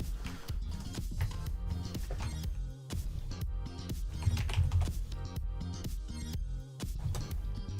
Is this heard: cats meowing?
no